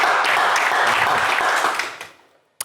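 A studio audience at a French television game show claps steadily and loudly for about two seconds, then the applause fades out quickly, leaving a single sharp clap at the end.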